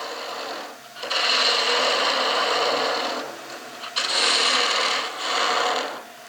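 A steady broadband machining whir from a lathe facing off a metal part, running in two long passes with a brief drop between them, fairly close and loud.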